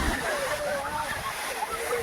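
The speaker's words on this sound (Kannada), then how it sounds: "ಅಲ್ಲಲ್ಲಿ ನೀರು ಹೊಡಿತಾ ಇದೆ, ತುಂಬ ಚೆನ್ನಾಗಿದೆ" Water sprays and rushes at a dam near Mysore, a steady broadband wash that persists throughout while people talk over it.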